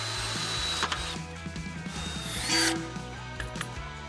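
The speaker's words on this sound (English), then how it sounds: "I'm using a steel drill bit, suitable for steel and wood" A steel drill bit bores drainage holes through a galvanised bucket, the power drill whirring loud and close in repeated bursts with grinding, ratcheting bites into the metal.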